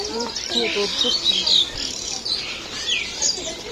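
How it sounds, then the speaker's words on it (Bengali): Many birds chirping together beside the Padma river, a dense busy chatter of high tweets close by, with voices talking over them. "কত পাখি।"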